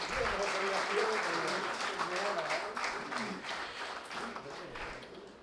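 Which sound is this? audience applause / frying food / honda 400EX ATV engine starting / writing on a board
audience applause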